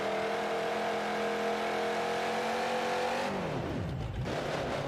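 A monster truck engine at a stadium freestyle run screams at sustained high revs, then drops sharply in pitch as the throttle eases, loud and close with crowd noise beneath.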